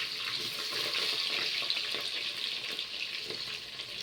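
Green chilies and onions dropped into hot oil after mustard seeds have fried, for a fish curry with okra cooked in a clay pot, producing a loud, bright, continuous sizzle close by with no voices.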